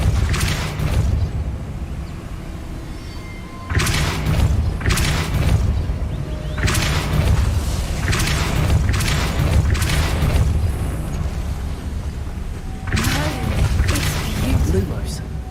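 Depulso force spells cast in Hogwarts Legacy: several heavy, booming blasts with whooshing rumble, spaced a few seconds apart over a continuous background of game noise, with a voice speaking between them.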